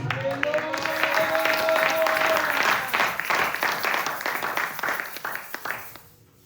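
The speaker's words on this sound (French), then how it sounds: "Acclame très très fort Jésus" A church congregation at a prayer service claps and cheers for Jesus, with loud applause and shouting voices that build and then fade out quickly.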